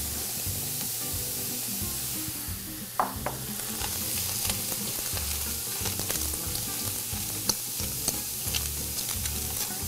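Onions and asparagus sautéing with other vegetables in a hot pan give a steady, close sizzle and frying crackle, with a brief stir-like clatter near the three-second mark.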